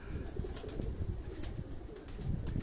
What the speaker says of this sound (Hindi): उसके यहाँ ये सारे कबूतर अंदर होते हैं